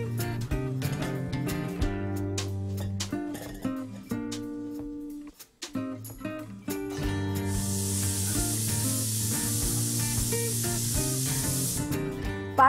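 A pressure cooker full of Malvani mutton curry vents steam with a steady, bright hiss partway through. Music plays underneath throughout.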